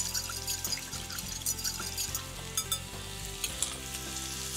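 Tilapia fillets fry in a pan with a steady, dense sizzle and occasional crackles, close and continuous throughout.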